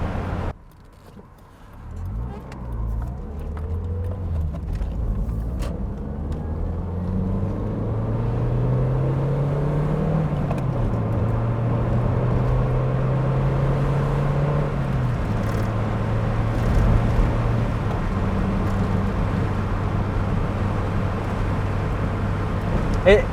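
A Toyota Paseo's small 5E engine revs and climbs steadily as it accelerates, a continuous rising drone with road rumble underneath, close and fairly loud.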